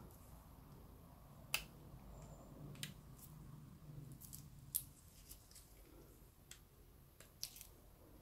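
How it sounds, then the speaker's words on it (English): Scissors trimming the edges off a resin pendant cast in a silicone mold: a few sparse, sharp, close snips spaced out over a quiet background, with no talking. "So I'm just going to trim the edges off of this."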